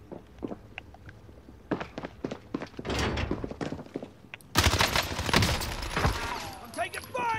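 Gunfire in the game Call of Duty: Warzone, rapid sharp bursts of shots that grow denser and louder toward the end, mixed with thuds and a player talking over it.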